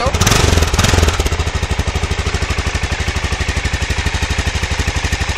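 Aprilia Pegaso motorcycle engine running on a test, a loud close burst of revving at first, then settling into a steady, rapid pulsing idle.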